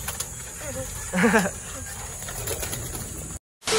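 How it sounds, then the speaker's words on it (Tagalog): Pigeons at a Filipino pigeon seller's loft give one clear, throaty coo amid soft wing flutters and a busy background murmur. "ang dami pang kalapati dito"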